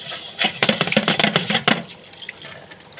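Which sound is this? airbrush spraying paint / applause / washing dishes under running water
washing dishes under running water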